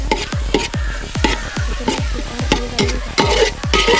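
Tomatoes being stirred in a sizzling pan for a Kerala curry, with a spoon scraping in steady repeated strokes over a constant loud frying hiss.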